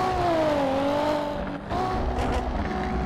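A Mitsubishi Lancer with its original engine pulls away in first gear, a steady rising engine tone heard close up, with a brief dip as it shifts before the drone resumes.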